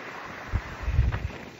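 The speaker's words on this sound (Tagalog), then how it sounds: "Yan, lakas ng hangin." Strong wind gusts buffet the microphone outdoors by a rice field on an overcast day. There are low rumbling bursts and a steady rushing hiss, with no talking.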